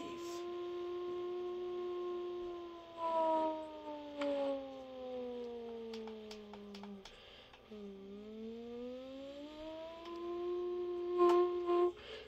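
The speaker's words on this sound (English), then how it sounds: "I think the tsunami sirens are gonna turn on" Tsunami warning sirens in the video game Just Cause 3 wail in long, slowly falling and rising tones, a loud sustained howl with a few faint clicks and clatters beneath it.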